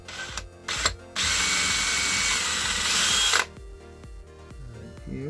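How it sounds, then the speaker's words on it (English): A power drill bores pilot holes into wood for a small fairy door, short whirring bursts at first and then a sustained, loud grinding run before it cuts off, close and with no talk. "I'm just going to pre-drill."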